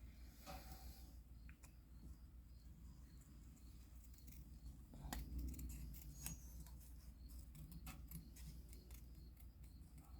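Paper snips cut cardstock pieces for Stampin' Up card making, giving a few faint, short snipping clicks over a steady background hiss.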